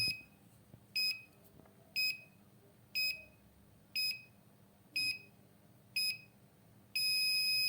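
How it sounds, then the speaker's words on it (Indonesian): An ESP32-based smart door monitoring alarm gives seven short, bright electronic beeps, one each second, then switches to a continuous sustained tone at the end. The beeps sound clean and close over a quiet background. "alarm kedua itu jadi bunyinya akan panjang terus-menerus, sedangkan alarm pertama hanya berulang-ulang gitu"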